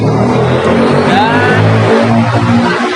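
A motorcycle passes close by on a road, its engine noise rising and fading as it goes past, with a steady roar underneath and people talking over it.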